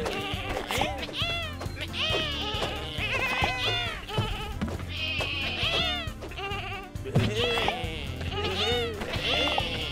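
Sheep in the video game Lumberhill bleat repeatedly and loudly, many overlapping calls over game music, with a player talking in between.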